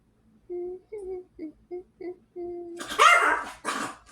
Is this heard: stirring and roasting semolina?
no